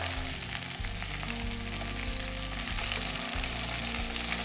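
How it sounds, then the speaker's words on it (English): Pork belly sizzles and crackles steadily in hot oil close up in a pan on high heat, with faint stirring scrapes and no voices. "so when it hits that oil, it sizzles up straight away"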